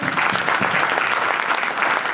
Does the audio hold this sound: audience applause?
yes